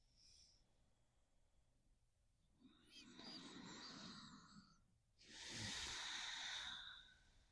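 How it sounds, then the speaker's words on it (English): Slow, audible breaths drawn in and pushed out through the nose during a yoga pose, a soft inhale followed by a louder, rushing exhale, close and alone. "you're still breathing that noisy breath in and out of your nose"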